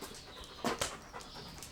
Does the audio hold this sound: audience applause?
no